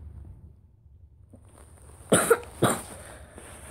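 Two close coughs from a person with a cold break a quiet room, the first a double hack and the second a single one.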